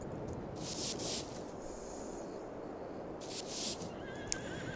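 A horse in the farming game Farming Simulator 22 lets out two shrill, wavering whinnies a couple of seconds apart, over a constant hissing outdoor ambience.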